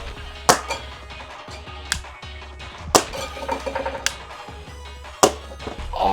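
A 3D-printed NERF hand cannon blaster fires at bottles outdoors, giving several sharp separate snaps spaced about a second apart with light clinks and rattles between them, close and fairly loud.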